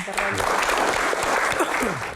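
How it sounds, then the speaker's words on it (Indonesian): An audience at a public forum gives a dense, close burst of hand clapping that runs steadily throughout, with a voice heard talking over it. "tepuk tangan"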